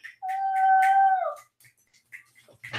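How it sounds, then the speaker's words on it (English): A female dog gives one sustained, close howl lasting just over a second, then a few soft, scattered sounds follow. "I think she's howling because she's hungry."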